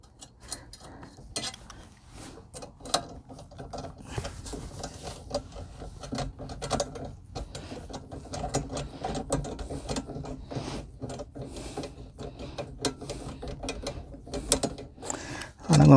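Nut tightened onto the linkage of a Chapin 8400C spreader, a run of close metallic ratcheting clicks in quick irregular bursts that continues throughout with small handling knocks.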